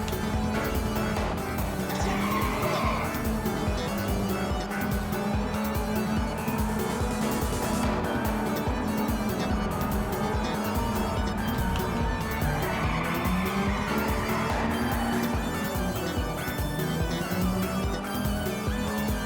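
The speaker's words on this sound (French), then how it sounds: "C'est bizarre ce virage à faire le drift." A race car in Ridge Racer Type 4 drifts through a corner, its engine droning continuously while tires squeal in rising and falling sweeps, loud and unbroken across the whole stretch.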